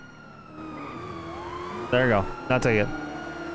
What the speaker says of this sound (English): You get your siren on.